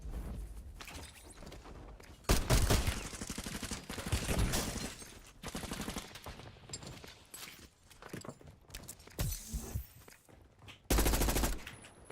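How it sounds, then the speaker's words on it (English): Gunfire in Call of Duty, including sniper fire: several loud, sharp shots and bursts break out at irregular intervals over steady background game noise, with no talk. "Oh my gosh, that sniper killed him."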